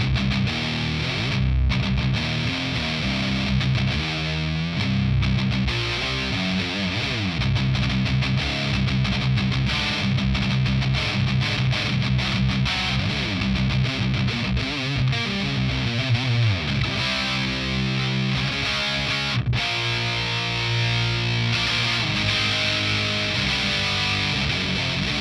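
Electric guitar through a Fender Hammertone Metal distortion pedal with the gain turned up, heavily saturated riffs and chords playing continuously and loudly for the whole stretch, with no talking.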